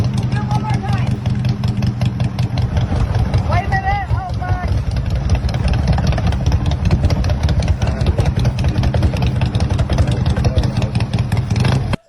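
A vintage custom-built classic Harley motorcycle engine runs at a loud, steady idle with a rapid, even mechanical patter, up close and continuous until it cuts off at the very end.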